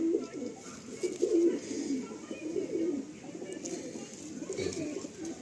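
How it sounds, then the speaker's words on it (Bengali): Madrasi pigeons cooing in a loft, soft repeated low throaty coos overlapping continuously at close range, fairly quiet. "দেখে নিন পায়রাগুলো।"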